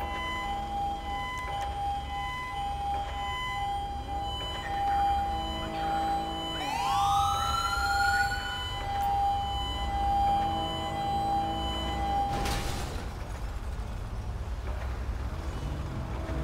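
An ambulance siren wails in Grand Theft Auto V, its tone sweeping up and changing pattern midway, then cutting off, heard over steady game engine and road noise without speech.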